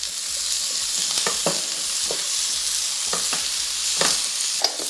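Light sauté of onions and quartered tomatoes in a pan for a vegetarian breadfruit curry: a steady, close sizzle runs throughout, with several scraping stirs of a utensil across the pan, one sharp knock near the end, no talking.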